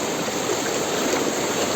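A strong river current rushes around someone wading through it, a dense continuous roar of turbulent water, loud and close throughout.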